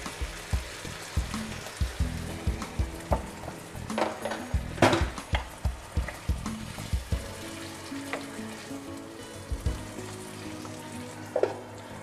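Sardinian potatoes (patate a sa schiscionera) cook in a pan with added broth, giving a steady close sizzle and bubbling broken by scattered pops and soft clatters of the pan, with no talking.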